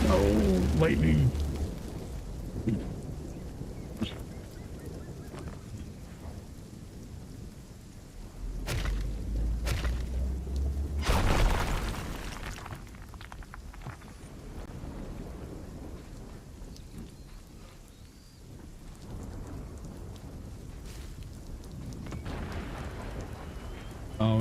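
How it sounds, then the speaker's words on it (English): Thunder rolls from a lightning strike in RuneScape Dragonwilds, with loud low rumbling bursts amid steady rain-like background noise. "Oh, lightning."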